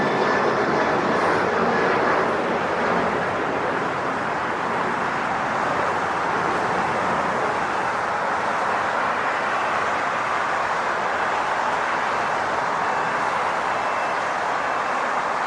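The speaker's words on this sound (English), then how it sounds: "Second one up for takeoff" Alaska Airlines Boeing 737 MAX 9 taking off at LAX: a steady, broad jet-engine roar holds loud for about fifteen seconds, easing slightly after the first couple of seconds, with no talk.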